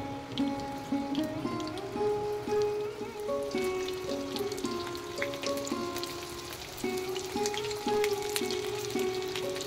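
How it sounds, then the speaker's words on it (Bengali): Pointed gourds (potol) fry whole in oil over medium heat, producing a dense, even rain-like sizzle with scattered crackles and a few faint utensil taps, steady and close. "এবার মিডিয়াম আঁচে পটলগুলোকে আমি হালকা ভেজে নিচ্ছি।"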